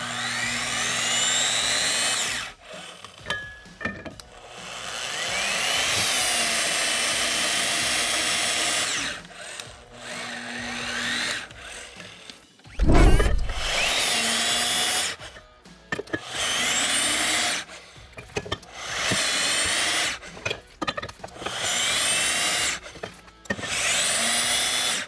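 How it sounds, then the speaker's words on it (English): Power tool tightening structural bolts fitted with DuraSquirt direct tension indicators, loud grinding bursts starting and stopping repeatedly, with one deep heavy impact thump near the middle and no talking. "I'm gonna tighten each one until I get complete indication from the DuraSquirt DTI"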